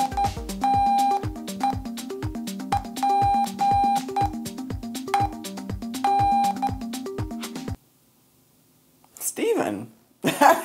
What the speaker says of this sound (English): I got this app on my phone that makes Morse code sounds